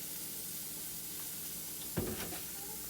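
A sausage browning in a frying pan gives a soft, steady sizzle, quiet throughout, with a single clunk of the pan or utensil near the end.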